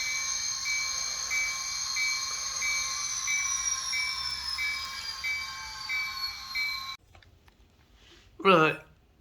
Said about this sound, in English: There's some trains there.